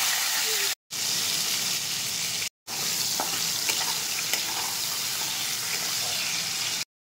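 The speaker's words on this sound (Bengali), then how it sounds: "এটাই আমি তেলের মধ্যে ফোড়ন দেবো" Steady, loud sizzling of bay leaves, dried red chilies and whole spices hitting hot oil, a broad crackling hiss broken by two brief silent gaps, with a few sharp pops.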